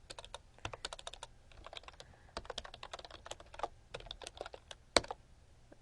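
Fast, uneven typing on a computer keyboard, close and crisp key clicks in irregular bursts with short pauses and one sharper hit near the end.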